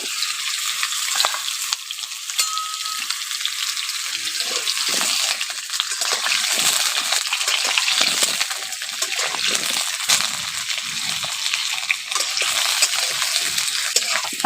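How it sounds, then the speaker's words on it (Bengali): Potatoes fry in hot oil for a village-style chicken curry, giving a steady, loud, close sizzle and crackle that runs unbroken with no voices. "আলুগুলোকে ভালো করে একটু ভেজে নেব।"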